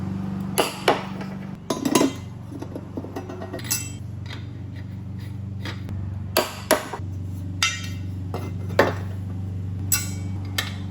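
A torque wrench tightens blade nuts on a Cub Cadet Ultima ZTS1-50 mower deck, producing sharp metallic clicks and clanks at irregular intervals over a steady low hum.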